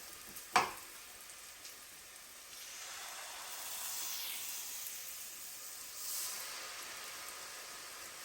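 Achu murukku frying in hot oil: a soft, steady hiss and bubbling sizzle after a brief sharp clink near the start, with the frying swelling gently a couple of times, faint and alone.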